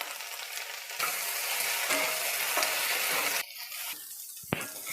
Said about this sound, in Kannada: ಈರುಳ್ಳಿ ಮತ್ತು ಬೆಂಡೆಕಾಯಿ ಎರಡೂ ಸೇರಿಸಿ ಫ್ರೈ ಮಾಡ್ಕೊಳ್ತೀನಿ